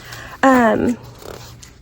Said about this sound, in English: there's our puppy here